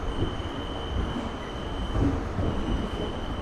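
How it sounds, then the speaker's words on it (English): A New York City subway train rumbles steadily along the tracks while turning into Queensboro Plaza, with a low continuous roar, faint rattling and a thin high whine running throughout. "The train is turning right now into Queensboro Plaza"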